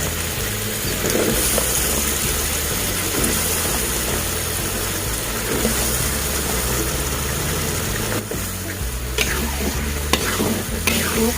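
Eggplant stir-frying in a pan with mushrooms gives a loud, steady sizzle and crackle throughout, with occasional scrapes from stirring and no one speaking.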